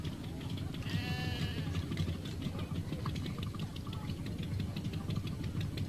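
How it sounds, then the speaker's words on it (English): Kerry sheep at a small rural farm show bleat in a clear, wavering call near the start, over a dense low rumble of idling engines and crowd murmur. "The sheep on show are Kerrys, a breed well suited to the gentle country just here"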